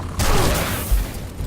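Gunfire from a weapon in the video game Destiny 2: a dense, loud burst of shots that holds through most of the moment, with a heavier thump partway in.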